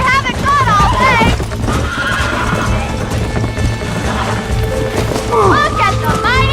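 Wild horses in Red Dead Redemption whinny loudly and gallop in a close, rapid clatter of hooves, a second shrill neigh rising near the end, with people shouting over the commotion.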